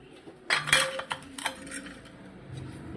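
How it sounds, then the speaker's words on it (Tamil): Vegetable idli batter with coriander leaves being mixed in a bowl, producing a few close, sharp clinks and scrapes of a metal spoon against the vessel, followed by quieter stirring. "போட்டு நல்லா அந்த மாவை கலக்கி விட்டுருங்க"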